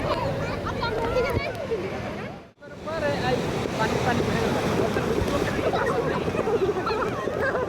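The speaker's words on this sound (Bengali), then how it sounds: "সাগরের ঢেউ অসম্ভব সুন্দর দেখে আসলে মনটা জুড়িয়ে যায়" Surf and strong wind roar steadily on the sea at Cox's Bazar beach, with many people's voices chattering over the waves throughout and a brief dip partway through.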